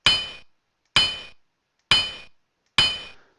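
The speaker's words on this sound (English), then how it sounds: "each one of these will be a hammer sound" A PowerPoint hammer sound effect plays four times for wrong quiz answers, each a sharp metallic clink with a short ringing decay, evenly spaced about a second apart and heard alone.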